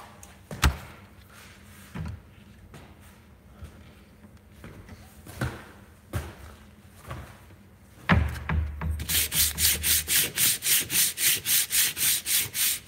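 Sandpaper on a sanding block worked over engine head parts of a Predator 212 small engine, a few scattered rubs and knocks, then a steady run of rhythmic back-and-forth sanding strokes close to the mic.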